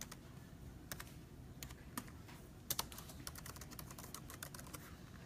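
Typing on a computer keyboard while adding text to a graphic, a steady run of light clicking keystrokes, fairly close and quiet, with no voices.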